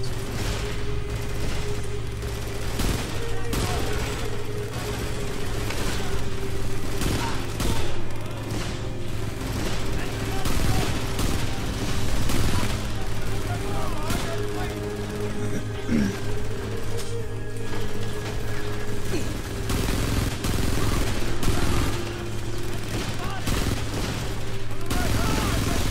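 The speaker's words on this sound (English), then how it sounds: "Seeing gunfire coming from above, where did it go?" Gunfire in the war video game Frontlines: Fuel of War, repeated bursts of rapid shots over a constant low engine-like drone, dense and continuous throughout, with a player occasionally talking over it.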